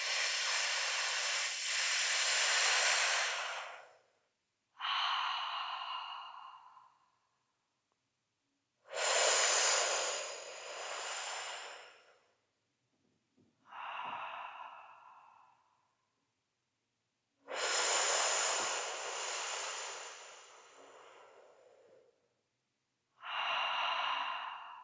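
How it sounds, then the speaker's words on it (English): Slow, deep breathing during a guided breathing exercise, long airy inhales and exhales alternating in an unhurried rhythm, close and fairly soft, with brief pauses between breaths. "it's okay to breathe slower and deeper, but continue"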